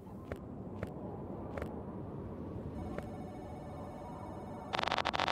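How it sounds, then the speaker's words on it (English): A phone rings in the video game Giraffe Town: a series of short, evenly spaced ring bursts over steady background game noise, ending in a louder, denser ring. "Phone is ringing."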